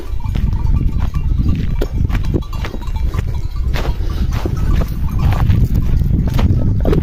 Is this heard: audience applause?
no